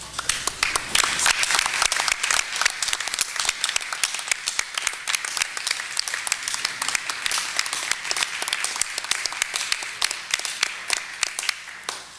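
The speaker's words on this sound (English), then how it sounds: "If we could give her another round of applause" At a Board of Education meeting, an audience gives a certificate recipient a round of applause: many hands clap in a crisp, continuous burst that runs steadily for several seconds and then tapers off.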